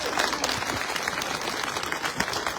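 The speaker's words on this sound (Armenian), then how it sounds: "եթե համաձայնեք ծափ տվեք" An audience at a political speech bursts into applause, a dense wash of many hands clapping at once, steady and moderately loud throughout without a speaker's voice on top.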